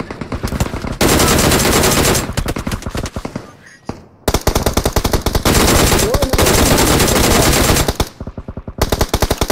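Loud, sustained machine-gun fire in the PUBG Mobile video game, with long rapid automatic bursts separated by brief pauses, close and dominating the scene.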